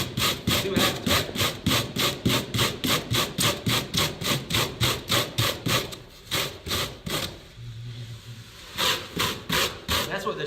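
Carved foam piece rubbed and shaped by hand at a foam carving workshop, a steady rhythmic back-and-forth scraping of about two strokes per second, close and loud, pausing briefly midway before resuming.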